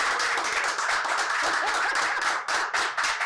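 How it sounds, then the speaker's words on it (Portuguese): An audience applauding a neurosurgeon, Dr. Bruno Bogéa, a dense continuous clapping from many hands at an even level for the full length, briefly dipping near the end. "eu pediria a toda essa plateia maravilhosa uma salva de palmas aqui para o Dr."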